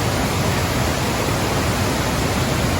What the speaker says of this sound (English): Up here, these little waterfalls, this is called a force, because the water is forced through